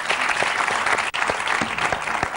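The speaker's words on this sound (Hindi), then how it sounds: "अब्बास मस्तान जी के लिए जोरदार तालियां हो जाए एक बार" A studio audience at a comedy interview show applauds loudly for the film director duo, a thick, continuous burst of clapping with sharp individual claps standing out, heard alone without talk.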